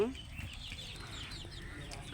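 Faint clucking from a chicken sick with a cold, soft, low murmuring calls over quiet background noise.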